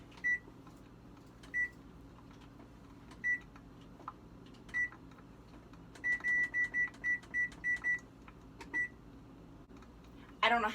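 A kitchen timer on a stove is set with a series of short, evenly pitched electronic beeps, some single and some in a rapid run of about eight, heard clearly over a faint room hum.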